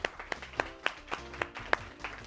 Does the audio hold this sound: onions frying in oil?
no